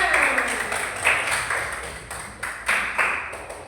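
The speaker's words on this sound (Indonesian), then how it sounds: "Ya bagus, tepuk tangan." Classroom children clap in a fairly regular beat, softer and slightly uneven, roughly eight claps at a moderate distance with faint room noise.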